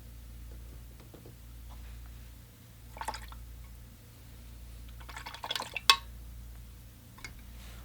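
Watercolour painting water being changed in a container, with a few faint drips and pours splashing around the middle and a brighter splash near the end over a low steady hum.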